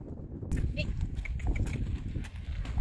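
Horse hooves clopping on a bridge during a mountain trail ride, a steady run of close, irregular thuds over outdoor background noise, with faint voices.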